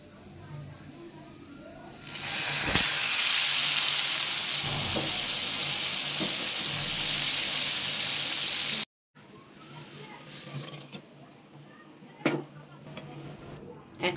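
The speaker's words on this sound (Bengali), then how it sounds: "এখন দিয়ে দিব ডাল।" Lentils hit onions fried until brown in a hot pan for a jute-leaf dal and set off a loud, steady sizzle. The sizzle runs for several seconds, then drops to a softer frying hiss.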